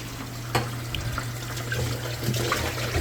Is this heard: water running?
yes